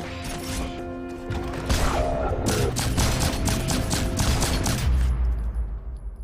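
Rapid gunfire in the video game Bionic Commando, a dense stream of sharp repeated shots over a heavy mechanical rumble, loud and close, with a woman's brief chatter before it fades into a low tail.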